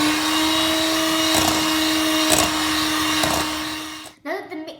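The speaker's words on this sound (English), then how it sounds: "start mixing until it becomes clear with the hand mixer" An electric hand mixer whirring steadily at high speed as egg yolks and sugar for tiramisu cream are beaten, a loud continuous motor drone that cuts off near the end.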